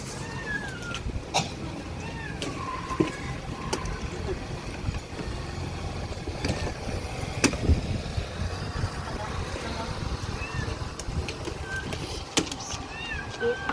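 Stray mother cat and kittens in cold weather, with meows rising over steady low background rumble and occasional talk nearby across the whole stretch.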